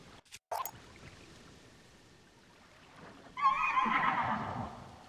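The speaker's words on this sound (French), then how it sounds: "Ah, c'est un cheval particulier." A horse whinnies in the video game Zelda Tears of the Kingdom, a clear neigh rising near the end after quiet game ambience and a couple of brief clicks.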